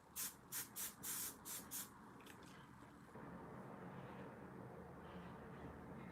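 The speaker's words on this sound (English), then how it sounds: "this says you can spray it on dry hair. Let's spray it on this bit at the back here." Several quick, close hisses of a hair product spray aimed at dry hair, short pumped bursts in a row, followed by quieter steady background noise.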